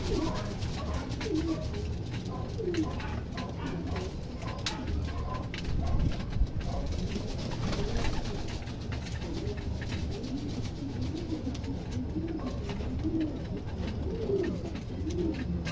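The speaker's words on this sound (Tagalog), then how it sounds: "Yan ating mga ibon." Several birds coo softly and repeatedly, low murmuring calls overlapping in a steady rhythm, fairly close, with no talking.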